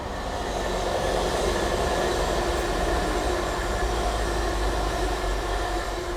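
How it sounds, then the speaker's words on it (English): A Trans-Pennine Express train runs along the line beside the Huddersfield Narrow Canal near Saddleworth. It gives a loud, sustained rumble with rolling rail noise, and no voices. "That's the Trans-Pennine Express"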